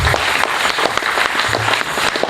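A church congregation applauds and cheers loudly in praise of the Lord, steady dense clapping filling the whole moment with no talk over it.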